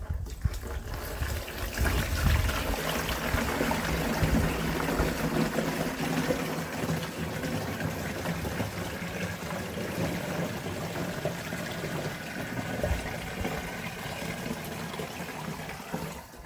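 Water pours steadily into the tank of a Dnipro-M 16S battery-powered sprayer with a continuous splashing, gurgling rush, close by, running without pause and with no voices.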